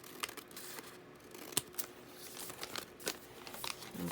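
Scissors snip along the edges of decorative paper, trimming away white borders: a quick run of crisp, close cuts with light rustling of the sheet between them, no voices.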